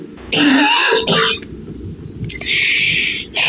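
A person coughs and clears their throat in a few rough bursts, close by, with short pauses between and low background noise.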